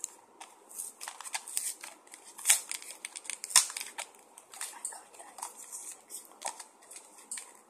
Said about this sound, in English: I'm just gonna tear it.